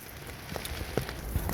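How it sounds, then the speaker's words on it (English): Rain falling on a tarp by a lake after snow turns to rain, a steady close patter with scattered individual drops tapping the fabric over soft background hiss. "The snow has turned to rain."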